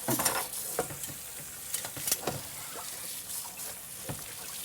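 Pots and pans washed by hand: close clinks and knocks of metal cookware over a steady wash of running water, with no voices.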